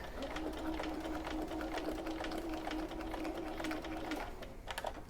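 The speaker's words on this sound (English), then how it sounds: "So stitch over it and then reverse back." A sewing machine stitches a gusset seam, then reverses back over it to reinforce, a close, steady, fast mechanical whirring chatter that runs continuously, a brief change near the end, with no talk over it.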